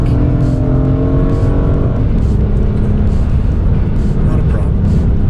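An Acura Type S car accelerates hard to overtake a Honda Civic on the road, engine note climbing loud and close, with speech over it.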